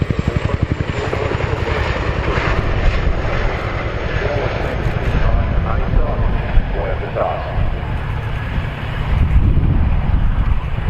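A Chinook twin-rotor helicopter at the RAF Cosford Airshow produces loud, steady rhythmic blade slap mixed with a continuous engine roar, close and powerful throughout.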